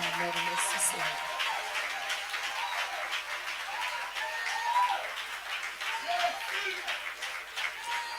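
A church congregation applauds to acclaim God, a broad wash of clapping with some cheering that holds steady, moderately distant, while a voice speaks over it.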